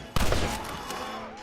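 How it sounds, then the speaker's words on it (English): Gunfire in the Western video game Red Dead Redemption: a sharp burst opens a dense, sustained volley of shots that carries on under game noise, with no clear gaps between reports. "They're coming out! Gun them down!"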